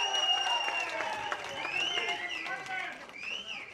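A crowd claps steadily and loudly for several seconds at a movie audio launch event, dense applause with a voice talking over it.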